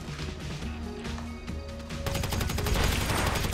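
Rapid bursts of gunfire from a GTA 5 Online heist shootout, dense overlapping shots and automatic fire that grow louder and thicker in the second half.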